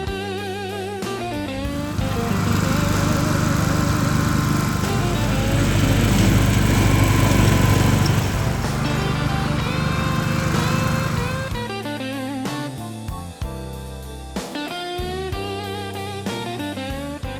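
Motorcycle engine while riding, a steady buzzing drone that swells and rises in pitch under acceleration, then eases off into a rougher idle-like putter with gear-shift dips near the end.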